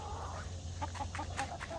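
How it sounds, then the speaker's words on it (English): A rooster clucks in a series of short, quick, fairly quiet calls over a low background hum, four or five clipped notes in a row. "Did you just see the rooster"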